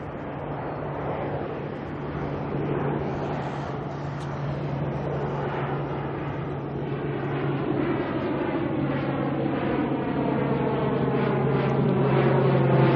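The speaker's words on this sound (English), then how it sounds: "it was an ATR taking off, and this one's heading to Rotorua" An ATR turboprop takes off at Auckland airport bound for Rotorua, a broad, moderately distant roar with a whining propeller drone that builds slowly and steadily over several seconds.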